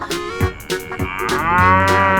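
A buffalo in an animated children's story lets out a loud, drawn-out moo, rising and wavering near the end, heard alone without speech.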